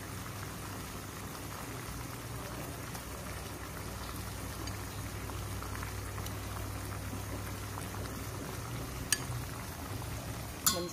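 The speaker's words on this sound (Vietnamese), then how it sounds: "đợi nồi nước sôi lên á" A pot of water simmers on a stove, a faint steady bubbling with a low hum beneath and a couple of sharp clicks near the end, no one speaking.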